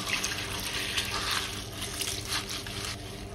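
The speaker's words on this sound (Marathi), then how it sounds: "त्याच्यावर स्वच्छ पाणी घालायचं" Clean water poured over soaked horse gram sitting in a strainer, a close, steady splashing pour with trickling runoff that swells and eases in uneven surges, no voices.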